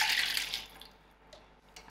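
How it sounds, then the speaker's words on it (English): Water poured from a cup into a bowl of eggless chocolate cake batter, a brief bright splashing rush at the start that quickly thins to a faint trickle, heard alone and close. "And now my 2 cups of water."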